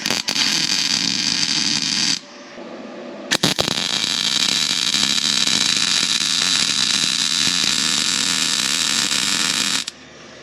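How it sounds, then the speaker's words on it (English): Welder running on truck headers for a 1964 Ford F100 with a Chevy engine swap, grounded by a magnetic clamp: a loud, steady crackling buzz in two long bursts split by a brief gap, with no talking. "We are going to turn our welder up to plaid."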